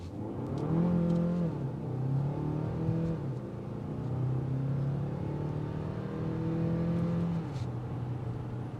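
A 2026 Hyundai Palisade Hybrid Calligraphy with a 329-horsepower turbocharged hybrid engine accelerates, its steady engine drone rising and shifting in pitch through several gear changes, loud and continuous from the cabin.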